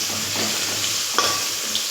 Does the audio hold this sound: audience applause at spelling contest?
no